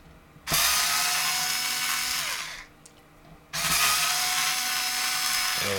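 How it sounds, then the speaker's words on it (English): Electric screwdriver or drill whirring as it backs out chassis screws around a computer motherboard; two sustained close runs of motor whine, each a few seconds long, separated by a brief pause. "we're going to pull all the chassis screws out now. All the ones around the main board."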